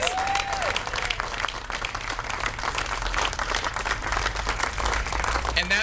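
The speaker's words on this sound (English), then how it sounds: "that deserves a huge round of applause" An audience in San Francisco claps at a proclamation event, a sustained wash of many hands applauding at steady volume for several seconds, with a faint squeal near the start.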